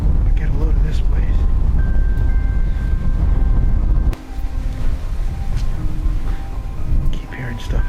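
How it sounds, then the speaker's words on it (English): Wind blowing outdoors at an empty former military base, roaring loud and close as gusts buffet the microphone in a continuous rumble, easing slightly midway; a person talks over it. "forgive the wind. It's kind of windy out here"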